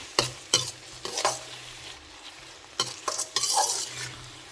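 Spicy masala for veg macaroni frying in a pan while being stirred, with a soft sizzle underneath and repeated sharp scrapes and clacks of the spoon against the pan in irregular bursts, close by and with no talking.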